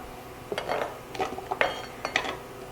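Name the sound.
rough-chopped onion added to a pan with beef drippings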